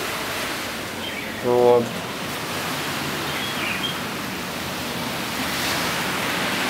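Sea surf washes continuously below a hotel room balcony at a Mauritius beach resort, a broad, even hiss of breaking waves that fills the scene, with a brief spoken word near the start.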